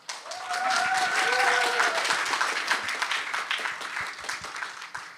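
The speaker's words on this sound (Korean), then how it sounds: "박수로 환영해 주실까요?" Audience applause welcoming a contestant at a Korean-language speech contest for international students, a steady wash of clapping that swells early and tapers slightly while a voice speaks over it.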